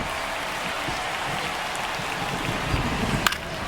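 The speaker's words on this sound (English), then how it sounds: "the rain's still a factor here" Steady rain hissing down over a baseball stadium in MLB The Show 25, a dense, even wash of patter with a faint crowd murmur beneath and a brief sharp crack near the end.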